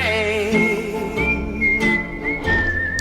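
Someone whistles a tune, a clear melodic line of sustained and gliding notes, close and fairly loud, with no talking.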